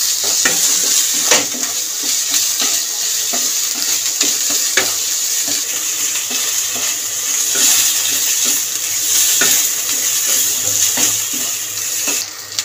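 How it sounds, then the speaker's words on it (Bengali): Kharkol leaf paste is stirred and fried in a pan to dry it out, making a loud, continuous hissing sizzle with frequent small clicks and scrapes of the spatula. "বেশ কিছুক্ষণ ধরেই নাড়াচাড়া দিয়ে ভাজবো।"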